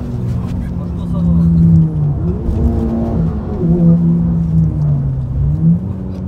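A Golf 6 GTI Stage 2 engine drones loudly from inside the car, rising and falling in pitch as it pulls and revs, with people talking over the engine.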